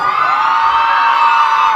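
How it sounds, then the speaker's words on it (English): A concert crowd screams and cheers at full volume, a dense sustained roar of many shrill voices, loud and continuous, with no single speaker standing out. "Let me hear you scream."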